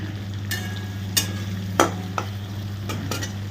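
Crushed garlic sizzles softly in oil while a spatula scrapes and taps the pan a few times, with sharp metallic clacks over a low steady hum of the cooking.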